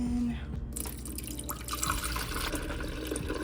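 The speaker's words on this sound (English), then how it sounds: "Pouring some water in." Water is poured into a drip coffee maker's reservoir, a quiet, close, steady trickle and splash lasting a few seconds.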